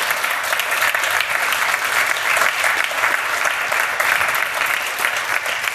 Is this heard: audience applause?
yes